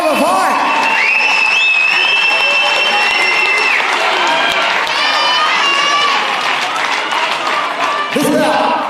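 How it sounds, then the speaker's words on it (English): Crowd at a super welterweight boxing match applauds and cheers loudly, with shouts and whistles over the dense clapping throughout. "can we get another big round of applause for both of these warriors?"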